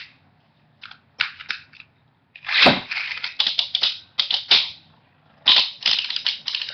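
Beyblade stealth battler spinning tops are ripped into an arena and clash. Sharp metallic clicks and scraping collisions come in quick bursts with brief pauses, loud and close, and no voices are heard.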